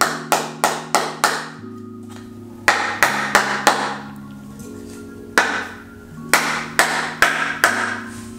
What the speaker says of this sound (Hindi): हम इसको हथौड़े से तोड़ने की कोशिश कर रहे हैं